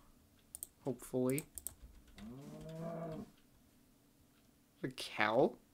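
A cow in the Minecraft video game gives several drawn-out moos in short, separate bursts, spread across the moment. Computer keyboard typing is audible between the calls.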